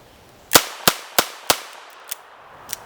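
A Henry Golden Boy .22 LR revolver fired rapidly, four sharp evenly spaced cracks close together followed by two fainter, more distant shots.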